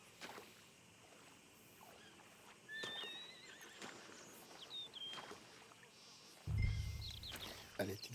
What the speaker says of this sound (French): Mais c'est pas possible, ces chevaux qu'on entend.